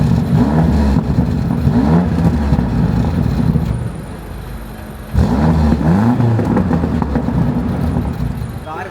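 A Range Rover Sport SV Edition 2 engine revs up close, rising and falling twice in loud, throaty surges with a dip in between, voices mixed underneath.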